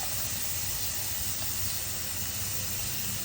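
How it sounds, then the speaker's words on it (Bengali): Butter sizzling in a hot pan while cooking dinner: a steady, broadband hiss that holds evenly from start to finish, close and moderately loud, with no talking. "গরম হয়ে গেছে, আমি বাটারটা দেবো।"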